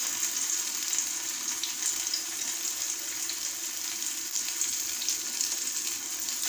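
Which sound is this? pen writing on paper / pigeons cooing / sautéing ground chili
sautéing ground chili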